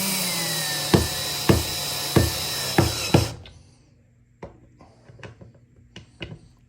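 A power tool drives screws into a sofa armrest tray table, giving five evenly spaced loud bursts in the first half, then stopping abruptly and leaving scattered faint clicks and handling sounds.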